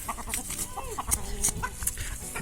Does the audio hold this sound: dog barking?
no